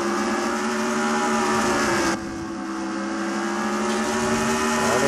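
Race cars roaring around a track in a NASCAR racing video game, a continuous loud engine drone with a sudden drop in tone partway through as the pack sweeps past, no talking.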